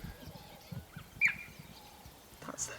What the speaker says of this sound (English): Can you hear that chirp?